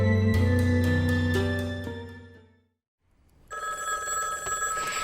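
An old-style bell telephone in a public phone booth rings loudly and repeatedly, then fades into silence before a different bright sound begins.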